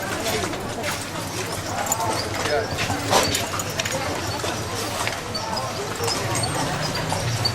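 A horse in a video game, an unhappy animal, clops its hooves in a steady rhythm amid a busy ambient bed, with someone talking over it throughout.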